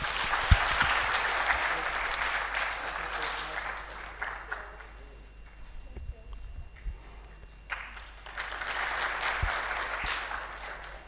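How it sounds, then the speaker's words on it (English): Audience applause at a panel discussion on oil and gas geopolitics, a dense crowd clatter that swells, dips in the middle, then rises again toward the end. "Some round of applause, please."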